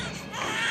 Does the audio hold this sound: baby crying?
yes